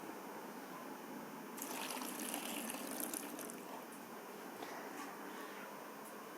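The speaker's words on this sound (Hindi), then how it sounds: "अब मैं इसका पानी निकाल दूँगी।" Water draining off soaked cut potatoes for fries in a home kitchen, a steady trickling and splashing that grows busier midway and continues for several seconds.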